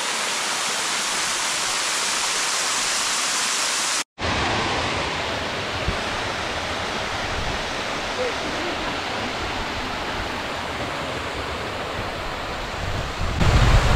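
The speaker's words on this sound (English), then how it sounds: "we just followed the stream down and we got to this, the plunge pool" Steady roaring rush of a waterfall pouring into a plunge pool in Litchfield National Park, loud and continuous, briefly cut off once.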